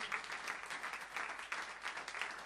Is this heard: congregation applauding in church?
yes